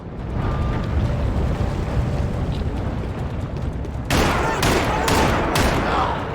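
Sustained gunfire and explosions from the Max Payne 3 video game rumble continuously, with a dense roar that breaks into several loud, sharp bursts of shots toward the end.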